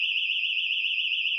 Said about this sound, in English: Fucking house alarm went off. It's back.